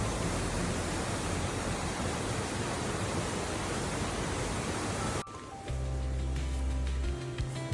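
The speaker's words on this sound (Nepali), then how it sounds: "यो खोला बगिरहेको साउन्ड" A mountain stream rushes along a hiking trail near waterfalls in Farchant, Germany, a loud dense continuous roar of flowing water, close, with no voices.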